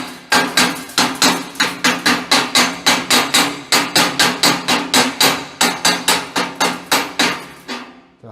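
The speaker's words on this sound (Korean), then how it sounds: "실제 슬래그 망치로 모재를 털어내는 소리가 어느 정도 들리는지" A slag hammer chips slag off welded base metal in a long series of sharp, evenly spaced metallic strikes, about three per second, loud and close, alone.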